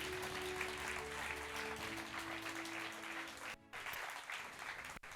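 Steady applause from an awards ceremony audience at a French research and innovation trophies event fills the room, a dense, even wash of clapping that holds throughout with a low hum underneath and a brief dropout near the end.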